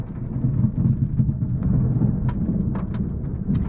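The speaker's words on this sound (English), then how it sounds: "This is the most intense Florida storm that I have ever witnessed in my life." An intense Florida thunderstorm, with heavy rain roaring steadily and loudly throughout, low rumbling thunder underneath, and a few sharp crackles standing out near the end.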